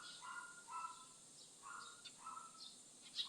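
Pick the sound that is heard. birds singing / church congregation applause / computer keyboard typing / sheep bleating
birds singing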